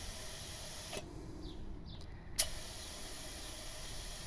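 Air hisses through a Harbor Freight spray gun as the pressure regulator is opened fully with the compressor off, one brief steady hiss followed by a sharp click, quiet and close.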